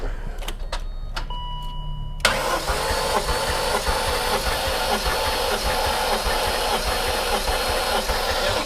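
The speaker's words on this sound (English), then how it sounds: "the battery definitely is cranking" A supercharged BMW S62 V8 in an E39 M5 cranks over during a compression test. The loud, rhythmic churn of the starter and engine runs close and continuous from start to finish.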